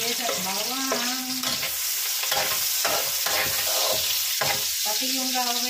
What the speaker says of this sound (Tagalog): Lutuin na natin ang ating adobong chicken, guys. Sabay na yung sibuyas at bawang.